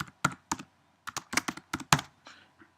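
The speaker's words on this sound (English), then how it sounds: "Let's just type test page here." Keys clatter on a computer keyboard in about ten quick, irregular taps and short bursts, close and clear with no talking.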